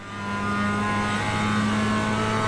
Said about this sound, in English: enjoy the sounds of the Mazda MX-5 at Oran Park in